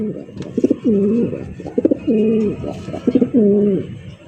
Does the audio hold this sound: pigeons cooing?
yes